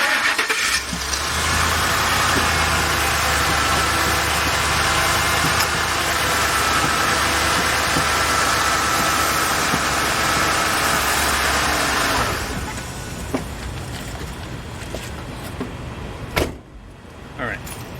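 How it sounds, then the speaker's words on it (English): A 2004 Lincoln Navigator's engine idles loudly and steadily for several seconds, then drops to a quieter rumble, with a brief clunk near the end. "let's turn on the engine and get that brake piston to go out there"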